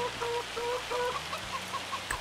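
Chickens clucking in the video game Farming Simulator 25, a steady run of short, evenly spaced clucks from one or more hens, close and clear over a low farm-engine hum.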